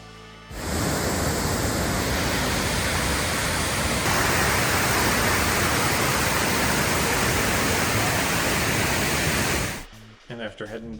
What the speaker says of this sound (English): The main attraction down at the bottom of the gorge here was the waterfalls.